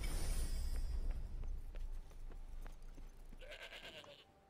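A sheep bleats in the PS5 game Forspoken. A short, fairly clear bleat comes near the end over soft rustling footsteps and low game ambience.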